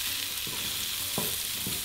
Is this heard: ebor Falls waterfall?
no